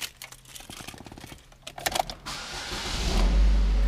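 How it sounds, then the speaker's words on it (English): Engine of a used Buick Verano starting: a few clicks and a rising whir, then the engine catches and settles into a steady low rumble from inside the cabin, with no talking. "Car fires right up."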